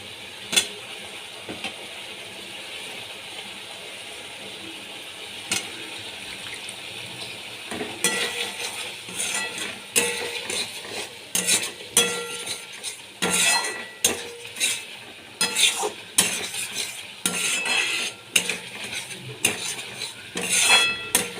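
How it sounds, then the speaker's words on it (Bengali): Potatoes with a spoonful of sugar are sautéed in a pan, starting as a soft sizzle before a run of frequent scraping spoon strokes and clinks against the pan, close and irregular, with no voices. "এবার আমি এর মধ্যে এক চামচ চিনি দিয়ে দিলাম ভালো করে কষিয়ে নিচ্ছি আলুগুলো দিয়ে দিলাম"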